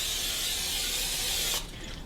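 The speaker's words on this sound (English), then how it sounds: "So I just take some nonstick cooking spray and coat my pan with it." Nonstick cooking spray hisses from a can onto a muffin pan, one continuous close, loud spray lasting about a second and a half before cutting off abruptly, with no talk.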